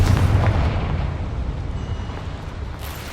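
A Confringo blast spell detonating in Hogwarts Legacy, a loud, deep explosive roar that rumbles and slowly fades over a few seconds, with a faint crackle near the end.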